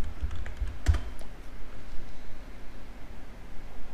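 Keys clatter on a computer keyboard as a short burst of typing goes into a search bar, close and fairly clear, with one sharper click standing out over a steady hiss.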